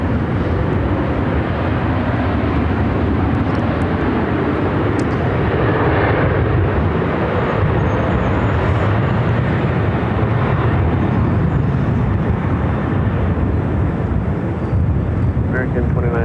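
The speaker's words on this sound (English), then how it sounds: "we got that Delta A350, the second one here today" A Delta Airbus A350 arrives on runway 26 at Phoenix airport, a steady broadband jet roar mixed with wind buffeting on the microphone that holds constant throughout, with voices faintly under it.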